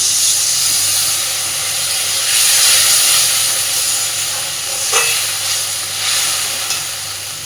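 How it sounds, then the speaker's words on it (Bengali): Water poured into a pan of frying spice paste gives a loud, steady steam hiss and sizzle that runs throughout, with a few faint clinks of a spoon against the pan. "মশলাটা যাতে পুড়ে না যায় সামান্য একটু জল দিচ্ছি।"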